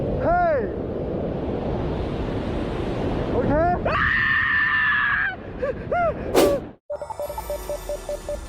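A skydiver screams in panic mid-air, a loud, wavering, high-pitched cry that rises and falls in several bursts over rushing wind noise, then cuts out abruptly before a brief stretch of quieter tonal sound.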